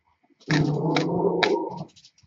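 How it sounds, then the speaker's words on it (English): A pet dog makes a loud, close, sustained growling bark lasting a couple of seconds, with sharp yappy accents, heard alone in a quiet indoor room. "Sorry about my dog, you can hear barking there."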